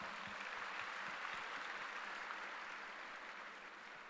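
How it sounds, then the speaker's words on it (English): Audience applause at a technical conference session, a steady wash of clapping filling the room for the whole stretch and easing slightly toward the end, with no voices over it. "Please give a huge round of applause."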